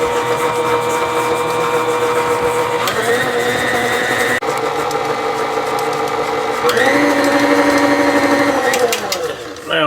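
An electric hand mixer creams room-temperature unsalted butter with sugar for peanut butter cookies, a steady whirring motor hum running throughout, shifting pitch as the speed changes partway through, with a voice speaking over it.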